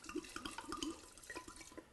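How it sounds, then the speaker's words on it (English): A full 750 ml bottle of vodka poured into a jar over orange peels, a steady gurgling, splashing stream of liquid close by, fairly faint, with no voices. "Dump an entire bottle, 750 milliliters of vodka over the top of this."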